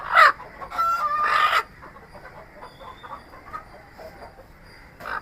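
Hens and a rooster squawk and cluck loudly in a few sharp bursts near the start, then quieter scattered clucks and rustling follow as the birds are caught on a rooftop poultry farm, with one more squawk at the end.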